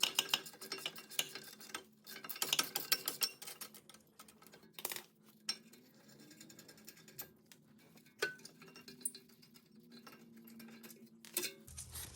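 A 16mm ratchet works loose the front brake caliper bracket on a BMW E90, making quick clicking ratchet sweeps and metallic taps in irregular bursts, close but fairly quiet, with no talking.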